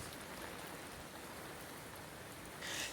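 Heavy rain pours steadily near a villa close to the CUSAT metro station in Kochi, a dense, even hiss of falling water with no break across the whole stretch and no voices.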